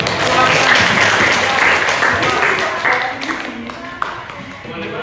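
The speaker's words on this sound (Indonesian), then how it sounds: "Silakan kelompok Kopiko berikan tepuk tangan" Classroom group clapping for the Kopiko discussion team during a chemistry teaching session, a loud sustained round of hand claps that gradually thins out, with one sharp tap near the end.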